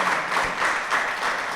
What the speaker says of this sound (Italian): Io farei un grande applauso a Nicola Scopelliti e a Monsignor Marcuzzo